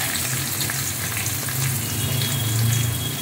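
Lentils and curry leaves fry in hot oil with a steady, close crackling sizzle that holds at an even level throughout, with no voices.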